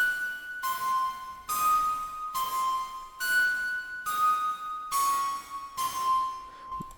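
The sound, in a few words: synthesized bell melody from sine and saw waves with distortion, delay, reverb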